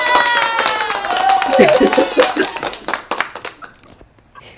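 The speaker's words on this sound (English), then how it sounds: "Where is the clapping feature?" A burst of clapping rings out as a reaction in an online meeting, with speech and laughter over the start before the claps thin out into a few scattered hits.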